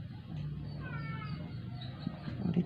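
A sick, dying cat at the vet gives a drawn-out, strained meow, fairly close, with a few faint background noises and a short sharper cry near the end.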